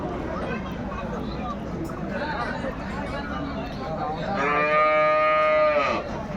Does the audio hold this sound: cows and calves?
yes